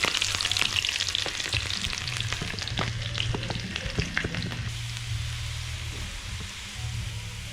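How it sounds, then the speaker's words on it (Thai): Shallots frying in boiling oil, a steady dense crackling sizzle with scattered sharp pops and occasional stirring, close and continuous throughout with no talking. "หอมแดงไปเจียวกันนะครับลงไปเจียวเลยครับ"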